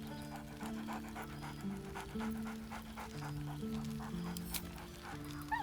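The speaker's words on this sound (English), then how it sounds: "Scratch barks merrily in something like agreement." A dog in the Baldur's Gate 3 video game pants steadily and rhythmically under soft, sustained game music, with no clear bark standing out.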